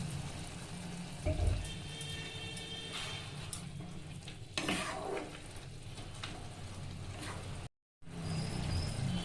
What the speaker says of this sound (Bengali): এরপর এর মধ্যে আমি সামান্য একটু জল দিয়ে দিব, যাতে বড়িটা ভালোভাবে সেদ্ধ হয়ে যায়।